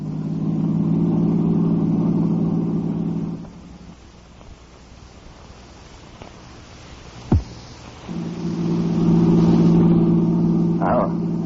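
Car engine in a radio drama effect, revving steadily for several seconds, dropping away to a low idle, then surging loudly again, with a brief sharp thump between the two bursts.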